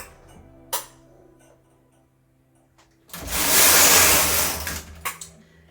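A Brother KH260 bulky knitting machine carriage sweeps across a row of yarn with a loud, rushing whir lasting about two seconds, preceded by a brief click and quiet, close by and without speech.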